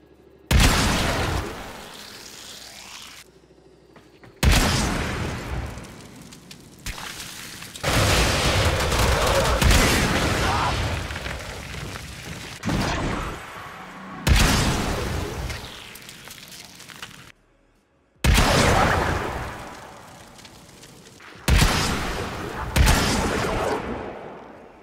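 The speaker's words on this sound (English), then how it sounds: "This is Napalm Grenades, a Nightwave mod that modifies the Secure Repenter's projectile into a rocket launcher-like ammunition of death" Napalm Grenades mod turning the Secure Repenter's shots into rocket-like explosive rounds in Warframe: loud, dense bursts of booming blasts and rapid fire, roaring in long stretches broken by brief silent gaps.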